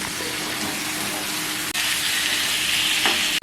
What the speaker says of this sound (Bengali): এবার এটাকে ভালো করে কষিয়ে নিই।